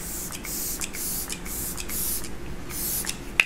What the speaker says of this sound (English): I'm going to take my Glow Recipe Watermelon, what is this, Ultra Fine Mist. I love this stuff, just to kind of set the face